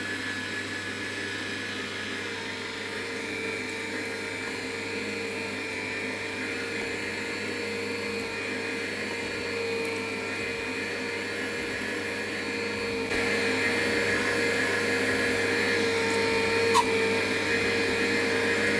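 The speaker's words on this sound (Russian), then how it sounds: "Ставим мясо, включаем мясорубку" Electric meat grinder running with a steady, loud motor drone as meat is fed through, rising slightly in level partway and staying continuous without speech.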